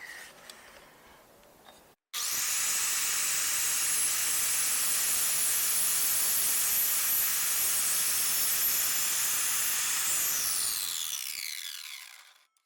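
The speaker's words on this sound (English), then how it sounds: "miter saw is set to a 2-degree bevel, and I'm going to cut some 1/2 inch spacers for the ceiling" A miter saw set to a 2-degree bevel cuts half-inch spacers for a camper van ceiling. After a brief lower motor sound, a loud, steady hissing whine runs for about eight seconds, then winds down and fades.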